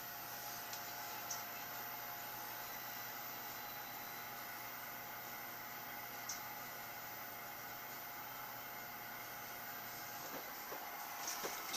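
Heat gun blowing hot air onto heat shrink tubing over a soldered wire, a steady even hiss and whir running throughout with a few faint clicks near the end.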